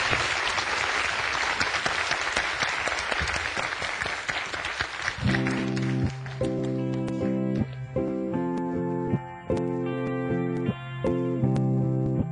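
A lecture audience applauds the speaker with dense, sustained clapping that fills the room for about five seconds, then gives way to loud band music with steady rhythmic chords.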